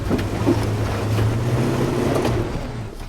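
A Jeep spins its wheels off-road, a loud, steady rumbling engine roar with churning tire noise close by that eases slightly near the end, with no talking.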